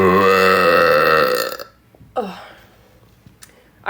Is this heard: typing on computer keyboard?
no